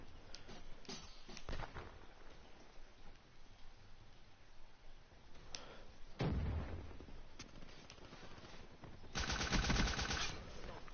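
A nail gun fires in Black Ops 3 multiplayer, with scattered muffled shots and then two louder, sharper bursts of rapid fire, the last one dense and crackling.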